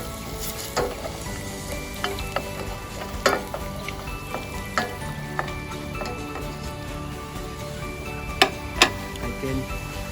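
Lemongrass and asam keping frying in a pan make a steady close sizzle, broken by frequent sharp clicks and taps of a utensil against the pan, with no speech.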